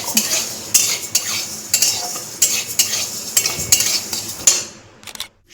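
Utensil stirring and scraping food frying in a pan, a steady sizzle with repeated metallic scrapes and clinks at an irregular rhythm, close and fairly loud, ending in a brief quiet.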